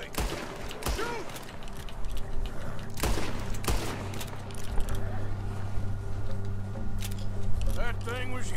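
Gunfire in the video game Red Dead Redemption 2: several sharp shots and bursts ring out amid game noise, with a voice speaking over the action.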